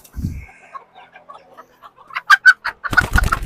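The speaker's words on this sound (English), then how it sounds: "One of our baby silkies from earlier this year wanted to jump out and say hi to everyone." A young silkie chicken gives a series of soft, high clucks and chirps close by, faint at first and then louder, set among scattered rustling and bumping noises.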